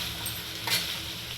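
Vegetable rice mixture with kasuri methi is stirred in a hot pan over low heat, a soft continuous sizzle with a single brief scrape of the spoon partway through.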